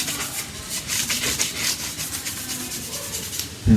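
Finish being rubbed by hand into the wood of a bolt-on guitar neck, a close, continuous soft rubbing and swishing with a steady rhythm, ending in a brief thump.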